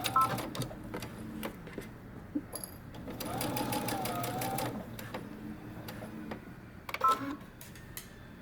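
A home sewing machine stitches a dress seam in short bursts, with one longer steady run of needle clatter in the middle and pauses filled with small handling clicks.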